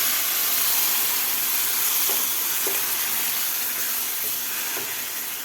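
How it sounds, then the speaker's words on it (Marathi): Masala paste sautéing in a pan after a splash of water is added, a steady loud sizzling hiss with faint occasional stirring taps, no voices. "पाणी घातल्यानंतर सुद्धा आपल्याला हे एक ते दीड मिनिट वाटण परतून घ्यायचं आहे"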